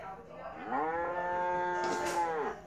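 A cow moos once, a long, loud, drawn-out low call that rises slightly and falls away, heard alone and close.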